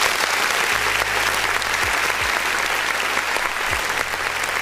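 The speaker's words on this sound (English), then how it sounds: "let's go ahead and clap for the newbies over here" Sustained applause from an audience, a dense steady wash of many hands clapping throughout.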